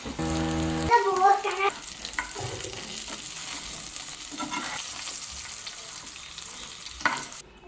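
Fish sizzles and crackles in a pan of hot oil with garlic, a steady close frying hiss with occasional stirring scrapes; a brief tonal sound rings near the start.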